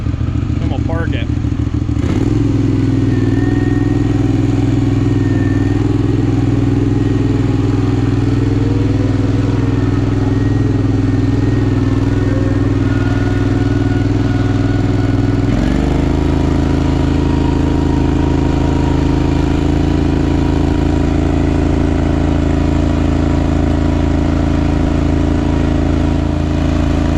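A Bolens QT16 garden tractor being revived from a junkyard, its engine running steadily and loud and close throughout a drive, with a slight shift in pitch partway through.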